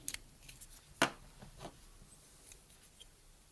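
A small throwing axe is snipped off a plastic Grimhammer dwarf miniature. Close, quiet clicks of a cutting tool are heard, with one sharp snip near the middle and a few lighter ticks around it.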